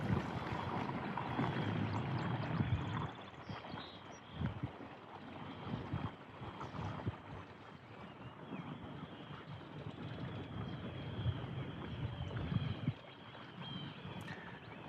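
An NK180Pro kayak motor runs out on the water, a continuous electric motor drone mixed with water wash and wind buffeting. It dips and surges a few times as the kayak rides over waves.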